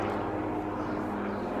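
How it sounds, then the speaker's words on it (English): A helicopter passes overhead, giving a steady, droning rotor and engine rumble that fills the short moment at a moderate, constant level with no talking. "It's another fucking helicopter."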